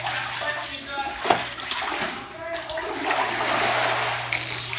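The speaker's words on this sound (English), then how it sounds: "see how much water is in here." Floodwater sloshing and splashing inside a flooded house, a steady watery wash with occasional splashes and knocks, with a person talking over it.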